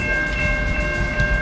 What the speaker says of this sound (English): First train of the morning here. I-007 for CSX.